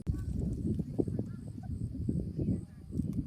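A turkey gobbles in a quick, rattling burst of low, throaty notes, fairly faint and close, lasting only a few seconds.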